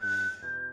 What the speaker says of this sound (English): the beautiful whistling that you're listening to right now